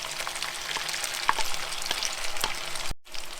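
Peppers and onion fry in a pan with garlic and crisping ham, a steady close sizzle with scattered pops and crackles, and a brief clatter near the end, with no talking.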